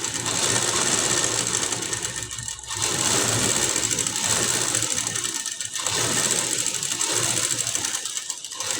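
A sewing machine stitching piping onto a blouse neckline: a continuous close mechanical whir and rapid clatter that runs in long stretches with brief slowdowns, with no talking.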